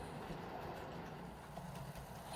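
A model railway Deltic locomotive runs along the layout toward a helix and the Peninsula Main Line, producing a faint, steady rolling rumble with light clicking of wheels on track.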